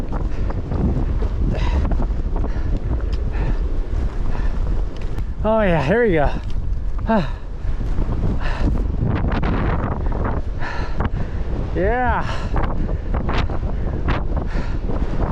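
Strong gusting wind buffets the microphone on a mountain trail near Mount Rogers on the Appalachian Trail, a constant heavy roar with a person exclaiming and talking briefly over it.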